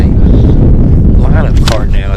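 Gusty wind buffets the microphone at an outdoor high school boys' baseball game in March, a steady loud low rumble throughout with faint voices underneath.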